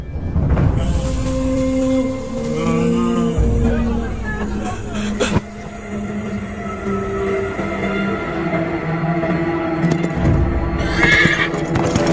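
A horse neighs loudly in a film scene, then gallops away with rhythmic hoofbeats amid other clatter, while people talk over the sound.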